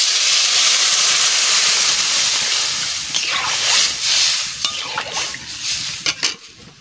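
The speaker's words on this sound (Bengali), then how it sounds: "এবারে আমি জল দিয়ে দিচ্ছি।" Water is poured onto hot frying taro pieces in a pan. A loud, steady steaming hiss follows, then turns into choppy bubbling and stirring noises toward the end. No one speaks.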